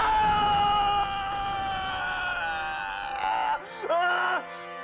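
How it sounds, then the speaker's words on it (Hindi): A dramatic scream rings out loud and close, a drawn-out wailing cry from a Hindi serial scene, with a shorter second outburst near the end against a tense musical backdrop. "ये चीख सुनी? ये किसकी आवाज थी?"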